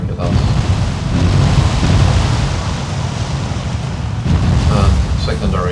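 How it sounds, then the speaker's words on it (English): Warship turrets and secondary guns fire during a naval battle in a video game, a dense rumble of booming shots and explosions that runs throughout, with someone talking over the gunfire. "The two front turrets are not... they're firing. But they're firing at us."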